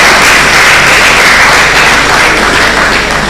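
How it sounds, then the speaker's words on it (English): Loud, dense audience applause for the acting registrar at a university International Women's Day celebration, a steady wash of many hands clapping throughout. "Please a round of applause for her."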